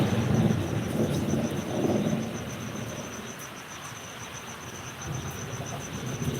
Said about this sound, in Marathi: भरपूर पाऊस चालू आहे बघा आमच्याकडे